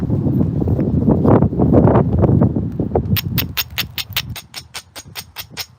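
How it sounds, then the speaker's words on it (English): A strong gust of wind blows outdoors in cold weather at a flint knapping spot, a loud rushing roar for about three seconds, then giving way to a run of sharp, evenly spaced taps from stone being struck. "Ooh, wow, big gust of wind."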